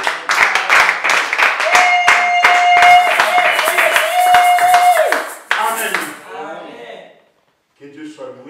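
A church congregation claps in a steady, rhythmic burst close by, with a sustained sung or voiced tone running over it, before the clapping fades out to near silence.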